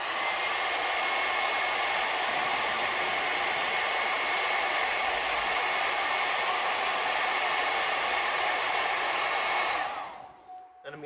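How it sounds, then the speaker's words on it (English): A blow dryer heats Black Magic Death Grip mustache wax, giving a steady, loud whoosh of hot air that runs for about ten seconds before cutting off. "with the original Death Grip, you are gonna wanna heat it with the blow dryer"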